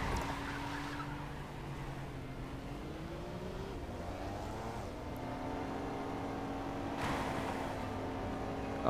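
A racing vehicle in the Tower of Fantasy video game, driven at its 200 km/h top speed during a desert rally, gives a steady, sustained engine drone with a rising pitch, loud and continuous throughout.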